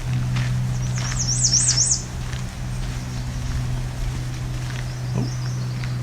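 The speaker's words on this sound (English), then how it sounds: "I think I heard a myrtle warbler" A short, high trilling bird song at the start, followed by a fainter distant myrtle warbler call later, over a constant low motor hum.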